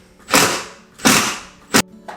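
Vacuum cleaner and mops being hung up in a mudroom cupboard: three broad rustling, clattering bursts of handling noise with a short knock at the end, close and moderately loud, no talking.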